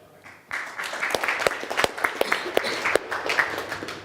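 Audience at a Google Summer of Code panel bursts into applause, a sudden start followed by scattered, sharp individual claps from a modest crowd.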